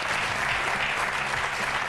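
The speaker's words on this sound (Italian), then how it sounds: "Quindi un applauso al Parma e al presidente Ghirardi." An audience gives a football club and its president steady, dense applause at a televised football show, with clapping filling the short stretch evenly and loudly.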